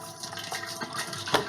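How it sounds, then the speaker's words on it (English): Water gushing and splashing as it is poured into a homebrew kettle, a short uneven pour with a brighter splash near the end, fairly close and on its own. "add the water to the kegel"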